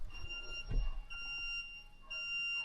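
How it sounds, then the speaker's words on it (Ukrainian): A thin, high electronic buzzer tone beeps steadily and fairly quietly from the rear of a John Deere combine during header height sensor calibration, pausing briefly in the middle, with a soft thump early on. "а зумер ззаді пищить"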